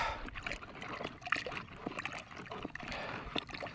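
Lime whitewash solution being stirred in a rubber bucket, a steady sloshing, gurgling churn of liquid that stays close and fairly loud throughout, with no voices.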